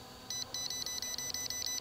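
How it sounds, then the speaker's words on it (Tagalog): A MY-MAX M105 drone remote controller sounds a rapid run of short, high electronic beeps in quick repeated pulses, close and clear over a faint low background hum. "Nagbi-beep-beep guys yung controller."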